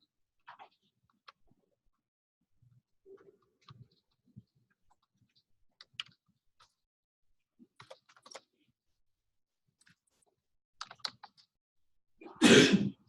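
A single loud, abrupt sneeze bursts out near the end, preceded by scattered quiet keyboard taps and small clicks in an otherwise hushed room.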